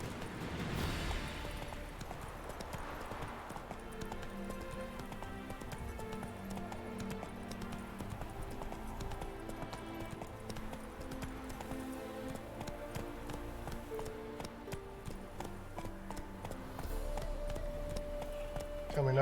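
Geralt's horse Roach galloping through mountains in The Witcher 3, a steady rhythmic clip-clop of hooves close up throughout, with game music and occasional talk in the background.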